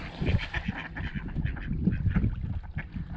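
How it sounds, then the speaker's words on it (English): Several ducks, two males and a female, squawk and honk in a loud, overlapping fight at a lake, harsh calls bursting repeatedly close by. "You guys are witnessing duck fight."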